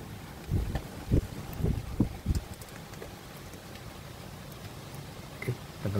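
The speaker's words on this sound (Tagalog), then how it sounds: "itong lakas ng hangin na ito, saka itong lakas ng ulan na to" Strong typhoon wind gusting and roaring steadily with rain, rough broadband rush with bursts of buffeting against the microphone, loud and continuous.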